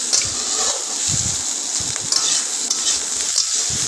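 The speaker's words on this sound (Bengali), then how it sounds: "এবার পেঁয়াজ আর লঙ্কাটা ওই তেলের মধ্যে একটু ভালো করে ভেজে নেব।" Loud, steady sizzling of onions and chilies frying in oil, with occasional stirring and scraping sounds in the pan.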